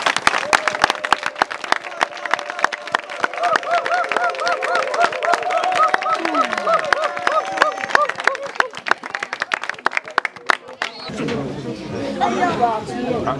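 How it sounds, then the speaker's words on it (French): An outdoor crowd at a borehole inauguration in a military camp claps in scattered, sharp bursts over chatter and talk, the clapping thinning before louder voices take over near the end. "Est-ce que nous pouvons applaudir?"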